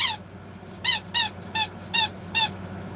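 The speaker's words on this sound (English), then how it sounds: "Eden got a new toy, and that's what she heard me squeak a while ago." A new squeaky dog toy is squeezed six times in a fairly steady rhythm, each squeak loud, close and high-pitched over a quiet room hum.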